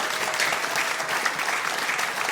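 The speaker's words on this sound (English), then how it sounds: "Give them both a huge round of applause, please." Sustained, dense applause from a comedy club audience at a live stand-up show for two performers, loud and even throughout with no talk over it.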